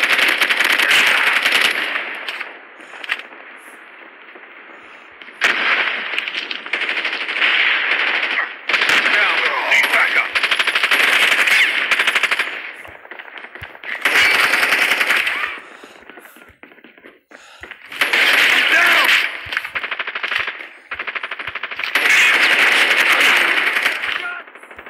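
Automatic gunfire from Call of Duty Mobile in a team deathmatch, loud rapid bursts that start and stop repeatedly with short gaps between volleys.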